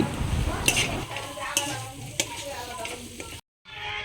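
Boiled dried fish goes into a frying pan and is stirred, a soft sizzle under scraping spatula strokes and a few sharp clinks against the pan, cut off by a brief silence near the end.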